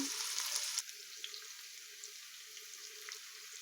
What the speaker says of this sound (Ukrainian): Шкварочки підсмажились, додаю цибульку.